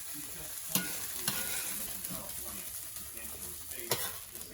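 Vegetables frying in a hot skillet, a soft continuous sizzle with occasional scrapes and clicks from stirring, fairly quiet and close, with no talking.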